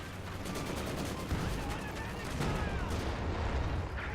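Battlefield gunfire from a short barrel Panzer IV in Company of Heroes 2, a dense ongoing clatter of shots and bursts with heavier thumps mixed in, loud and continuous under a busy game soundscape.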